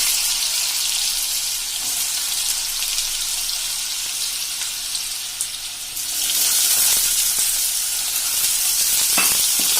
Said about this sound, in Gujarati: હવે એમાં આપણે 1 ટીસ્પૂન જેવું જીરું નાખી દેશું અને આપણે જે આ બટેટા સમાર્યા છે, ચોરસ કટકા કર્યા છે, એ આપણે આમાં નાખી દેશું